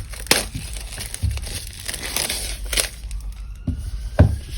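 Cellophane wrapping crinkles and tears in bursts as a tarot deck box is unwrapped, with sharp crackles near the start and end and quieter rustling between, close and alone.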